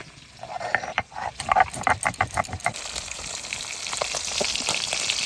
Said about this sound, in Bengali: মাছ ভাজা হয়েছে আমি তুলে নেব